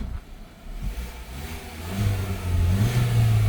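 A 2018 Ford Focus SE hatchback engine running and revving up, a steady mid-pitched hum that rises in pitch and loudness over a few seconds.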